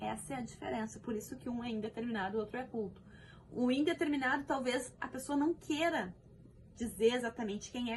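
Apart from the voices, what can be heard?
No everyday noise stands out behind the speech.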